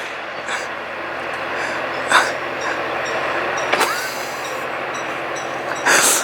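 A train rumbles past with steady broadband rushing noise and occasional squeals and clanks, fairly close and loud throughout.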